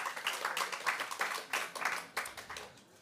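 Audience applause at a university festival event, a moderate patter of clapping from a small crowd, fairly close and fading slightly toward the end.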